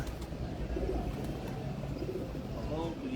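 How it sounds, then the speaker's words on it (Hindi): Pigeons coo in low, soft, rolling calls over a steady background hum, with voices talking nearby. "आ रहा कबूतर"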